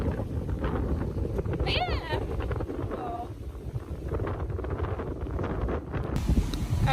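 Steady wind buffets the microphone outdoors in Mexico with a low rumbling roar, while a person briefly speaks and faint bird calls come through.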